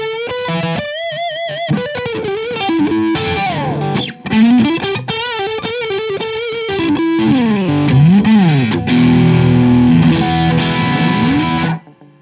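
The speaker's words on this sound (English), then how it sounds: "But then you can go position 4 and get that true strat sound." Overdriven electric guitar on a Strat-style single-coil pickup in position 4 plays a fluid lead with a brighter tone, sliding and bending notes over ringing chords before stopping abruptly.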